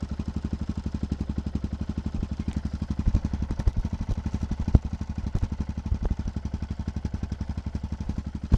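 Motorcycle exhausts idle with a steady, close, lumpy pulse, the low thumping rhythm broken now and then by small blips of throttle and sharp clanks.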